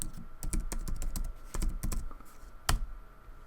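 Rapid bursts of keystrokes on a computer keyboard, typing out a plugin name, with irregular clusters of clicks and a sharper single tap near the end, close and fairly quiet with no voices.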